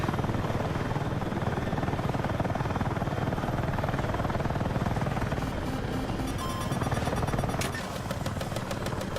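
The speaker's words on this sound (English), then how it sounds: "That jet's on my ass." Jet aircraft in the Battlefield 6 video game roaring low overhead amid dense battlefield noise, a loud sustained rumble with machine-gun-like rattling layered in throughout.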